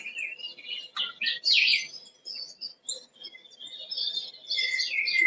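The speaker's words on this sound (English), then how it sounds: "I have some bird song, which I particularly love" Several birds chirp and warble in bright, high-pitched phrases, overlapping trills and tweets in a quiet outdoor setting with no voices.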